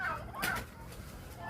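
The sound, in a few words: turkeys gobbling at feeding time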